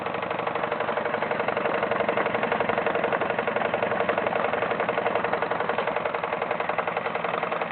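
A Wilesco D21 toy steam engine runs steadily at a constant pace, a busy even chuffing and mechanical clatter with no pauses and no voices.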